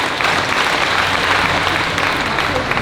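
Loud, continuous clapping from an audience at a FACTS 2023 convention Q&A session forms a dense, even roar of applause throughout.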